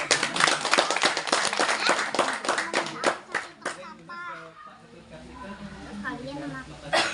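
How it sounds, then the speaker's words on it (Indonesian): Children at a Pura Cilandak pasraman visit clap their hands in a loud burst of rapid, sharp claps for about four seconds, then the clapping stops and voices talk quietly over room noise. "Kasih tepuk tangan lagi sekali lagi"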